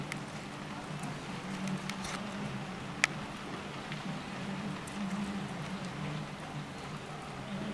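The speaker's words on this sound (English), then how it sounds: "I think that's the ice, the freezing rain I can hear hitting the back of the building" Freezing rain and ice pelt the back of a building in a steady, soft patter under a low rumbling background, with a single sharp tick partway through.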